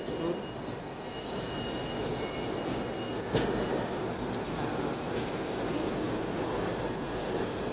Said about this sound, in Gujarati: જયપુર અસરવા ટ્રેન આવી ગઈ છે